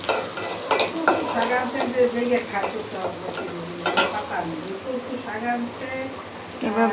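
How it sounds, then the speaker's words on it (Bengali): Garlic frying in a pan for a mashed dried-fish bhorta, with a soft sizzle under clinks and scrapes of a stirring spoon against the pan while someone talks over the cooking. "রসুন ভাজি করতেছি।"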